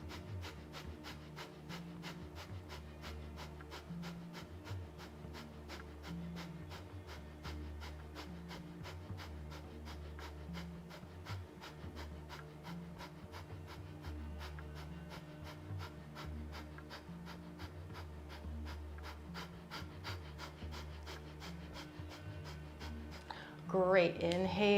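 Rapid rhythmic breath of fire from Kundalini yoga, quick forceful nasal exhales pumping in an even, fast pulse that keeps going throughout, close and steady, with a brief rustle at the end.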